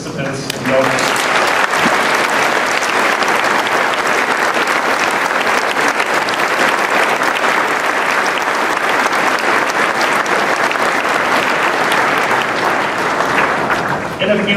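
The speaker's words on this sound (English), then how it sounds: "I would ask you one more time to offer a round of applause to all of our participants and donors" Loud, sustained applause from a large school assembly audience, dense clapping holding steady for the whole stretch and fading off at the very end.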